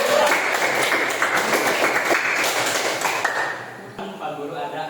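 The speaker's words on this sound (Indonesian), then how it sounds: "tepuk tangan buat Putri Alisa" Classroom applause for a student named Putri Alisa, a burst of clapping from pupils that starts strong and thins out toward the end, with a few sharp claps and some room noise.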